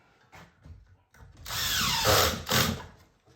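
A power drill drives 1¼ inch wood screws into a glued dovetailed wooden piece, with a loud sustained whir and a second burst after a brief dip, preceded by a few light handling knocks.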